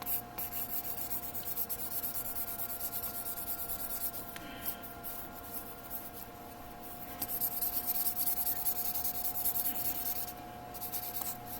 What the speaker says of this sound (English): Then I'll finish it up with an 800 sanding stick.